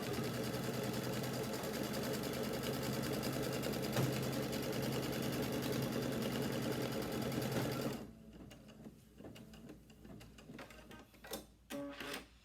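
An embroidery machine stitches folded fabric for an heirloom quilt, a steady, loud, rapid mechanical stitching that runs for about eight seconds, then stops, leaving faint scattered handling noises.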